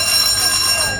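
A railway warning alarm sounds in Vietnam ahead of an arriving train: a loud, continuous, ringing electronic tone that holds steady throughout the brief moment.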